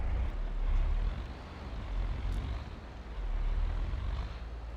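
A Ford truck engine from a Farming Simulator 22 mod gives a steady, deep rumbling drone that swells and eases slightly as it runs, with no voices over it.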